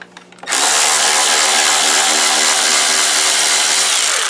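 Power drill backing screws out of a miter saw housing, a loud continuous whine kicking in after a brief quiet start and running steadily to the end.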